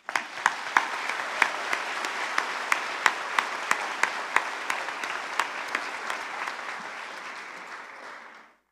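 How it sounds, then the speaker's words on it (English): Sustained applause from a commencement audience honoring teachers at a Delaware Academy graduation, a dense steady clatter of many hands with a few sharper claps standing out, holding evenly before fading out at the end. "A round of applause, please."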